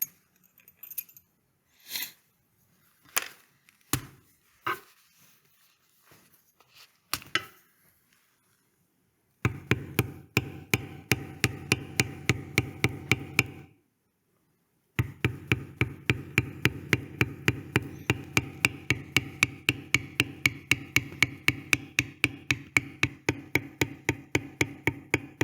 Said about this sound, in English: We'll go ahead and bevel around the outside.